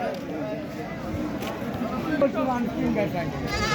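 Goats at a village goat market in Taherpur bleat in short calls amid a murmuring outdoor crowd and someone talking nearby.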